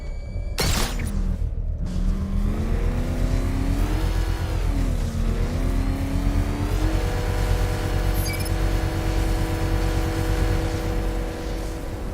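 Batmobile engine in Batman: Arkham Knight, a loud sustained game engine sound with a sharp burst at the start, then a deep rising and falling revving whine that settles into a steady high drone.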